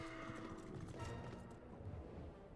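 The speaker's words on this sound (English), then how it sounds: "hop on the horse" Steady hooves clopping from a horse in Final Fantasy XIV, a continuous soft trot under game music and ambience.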